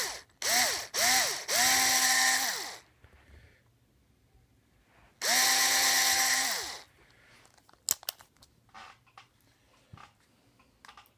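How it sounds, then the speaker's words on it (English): A power drill bores out fret marker dots on a guitar neck in a workshop: three short bursts, then one longer whir that winds down, a pause and another sustained run, followed by light clicks and handling noise. "I'm going to drill these two dots out."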